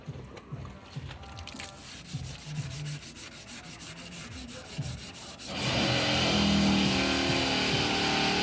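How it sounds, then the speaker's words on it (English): Putty is sanded smooth on the body of a Coaster bus being restored, producing steady rhythmic rubbing strokes that grow louder and denser in the second half. "So you rub it back down to smooth it."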